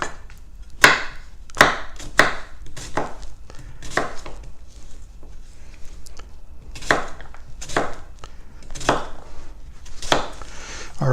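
A knife chops sweet potatoes into quarter-inch pieces on a cutting board, with sharp, irregular strikes and short pauses between clusters of cuts, close and clear with no talking.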